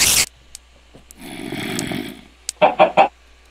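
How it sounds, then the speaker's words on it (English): A Minecraft chicken gives a quick run of three clucks near the end, preceded by a sharp click, a low breathy rumble and a few faint ticks in otherwise quiet surroundings. "There's a chicken."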